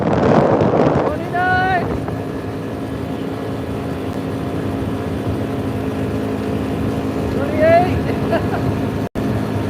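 Wind buffeting the microphone while riding a RZR 200 into a big headwind in mountain weather, a loud continuous rushing roar over engine drone, with a voice speaking briefly.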